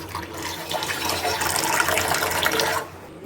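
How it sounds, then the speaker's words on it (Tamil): Water pours into a container of soaking raw mango pieces with a steady, close splashing gush that lasts about two and a half seconds and then stops. "இப்போ இதில் கொஞ்சம் தண்ணி சேர்த்துக்கோங்க"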